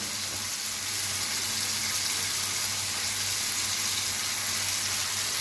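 Green chillies, tomatoes and ginger-garlic paste fry in a pan with a steady, even sizzle that holds at moderate loudness throughout, with no talking.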